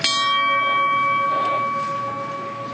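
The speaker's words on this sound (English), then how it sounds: "Before we hear the final ring of the bells" A memorial bell rings once for fallen firefighters at a Loop Fire anniversary ceremony, a single clear metallic strike with a long sustained ring that slowly fades, heard alone.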